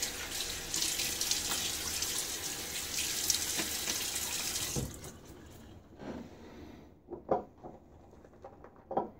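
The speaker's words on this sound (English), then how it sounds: "I'm gonna splash my face again and then lather up." Water running from a tap into a sink and splashed onto a face before shaving, a steady loud rush for several seconds that stops, followed by scattered drips and small splashes.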